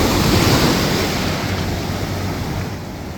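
Ocean surf rolls and breaks steadily on a beach beside a waterfront restaurant, a continuous broadband wash of waves with some wind rumble, loud and close, with no voices.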